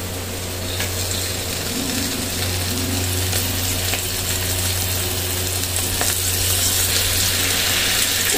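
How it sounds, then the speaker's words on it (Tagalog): Fish fries in hot oil, giving a steady, dense sizzle that stays loud and close throughout, with faint clinks over it and no voices. "Ito na, kaibigan, yung aking pinipritong isda."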